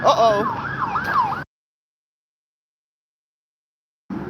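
An emergency vehicle siren wails on a street, loud and close with rising and falling sweeps for about a second and a half, then cuts off into silence before traffic noise returns.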